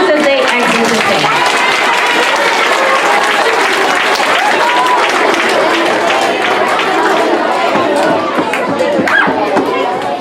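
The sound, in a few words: audience applauding students leaving the stage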